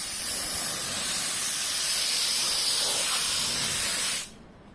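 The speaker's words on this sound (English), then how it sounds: "Take your air compressor, remove this nozzle, put it here." Compressed air from an air compressor with its nozzle removed, blasting dust off a laptop display in one loud, steady hiss that lasts about four seconds and then cuts off sharply.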